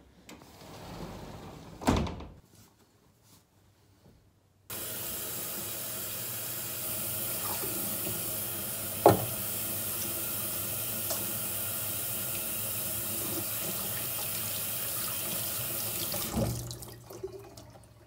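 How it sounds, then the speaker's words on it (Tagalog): Tap water runs steadily into a sink for handwashing, a close continuous hiss lasting about twelve seconds, preceded by a few quiet knocks and a brief thud, then cut off abruptly. "Kailangan magbugas ako ng kamay. Kasi humawak ako ng basura."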